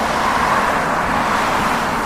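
Car sound effect in a children's counting song, a steady broadband road rumble with engine noise holding evenly for about two seconds, loud and alone without voices.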